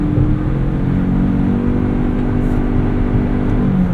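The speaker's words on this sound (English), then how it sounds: "After you've hit the throttle, you'll hear a lot of noise, there won't be a lot of acceleration, and then it'll kick in." Engine noise from a 2025 Toyota Crown Signia as the throttle is pressed while driving, a loud steady droning hum with a sustained mid tone rising slightly near the end, heard alone without talk.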